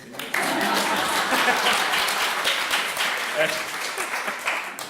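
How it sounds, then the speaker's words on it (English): Audience at a BelongCon Spring 2019 talk breaks into dense, sustained applause, loud and steady for several seconds before tapering at the end. "You actually clapped."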